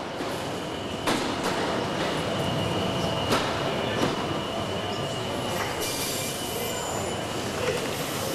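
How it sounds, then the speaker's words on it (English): A metro train travelling, a continuous loud rumbling roar with rattling wheels and faint squeals, heard close from on board, steady throughout with occasional louder clatters. "They travelled on the metro as far as they could."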